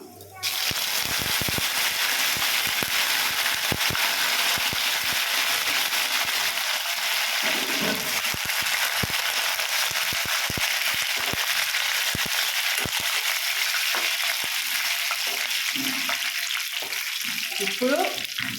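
Curry leaves dropped into hot oil for an onion chutney tempering, a loud sizzle and crackle that bursts in at the start and continues steadily, with a voice speaking over it.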